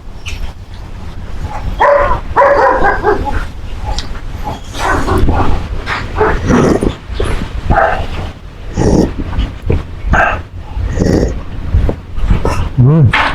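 A pet dog at home barks and growls in close, repeated bursts with whimpers and yips between, loud and uneven over about thirteen seconds, with a person talking intermittently.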